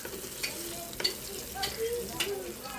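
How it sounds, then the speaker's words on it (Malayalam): Masala gets stirred in a pan while fish fries, a soft, quiet sizzle punctuated by a few irregular spatula scrapes and taps against the pan. "നമുക്കൊന്ന് ഈ കിടക്കുന്ന മസാലയൊന്ന് മിക്സ് ചെയ്ത് കൊടുക്കാം."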